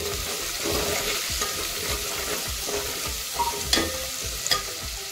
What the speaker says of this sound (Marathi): 1 चमचा मीठ घालते मी आणि छान मिक्स करून घेऊया।